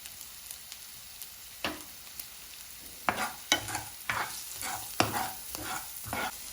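Onion with turmeric, salt and red chili powder sizzles in a pan while a spoon scrapes and stirs it in irregular bursts, close and clear over a steady frying hiss.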